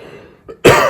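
A single short, close cough from a woman, preceded by a faint throat-clearing sound in a quiet room.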